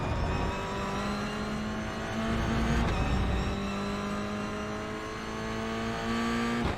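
A Toyota GR86 race car engine in a sim racing game holds a steady, loud, buzzing drone with strong harmonic tones that dip and rise slightly as revs shift, continuous throughout and without speech.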